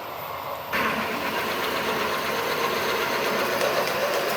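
A milling cutter held in a chuck spins up on a machine with a small wobble, a steady whirring motor hum that starts abruptly and then runs evenly and close, with no talking.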